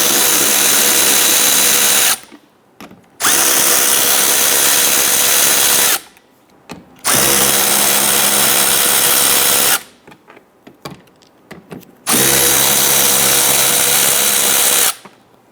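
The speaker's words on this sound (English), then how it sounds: "Loosen these 4 7/32 screws." Power drill backing out 7/32 screws on a 2011-2019 Ford Explorer during radiator work, loud whirring bursts of a few seconds each, separated by short quiet pauses with light clatter.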